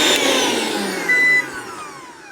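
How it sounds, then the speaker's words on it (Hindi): A kitchen mixer grinder running on UPS power makes a loud whirring drone whose pitch slowly drops as it winds down over two seconds, with a brief harder burst in the middle, close by and without talk. "अभी देखिए मिक्सर चल रहा है।"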